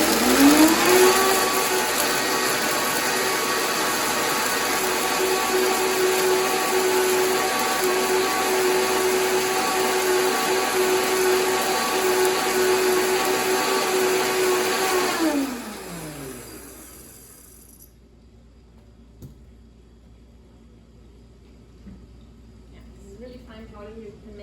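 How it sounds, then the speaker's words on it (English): A blender grinds dried carob pods into powder, a loud steady whir with a constant pitch that runs for about fifteen seconds, then winds down and stops, leaving a quiet room. "I'll just blend this a little bit."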